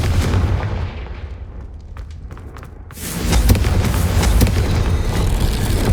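Hogwarts Legacy's Confringo spell going off in the game, heard as a loud, booming blast that surges in around the middle and then lingers as a dense roar, with no voice over it.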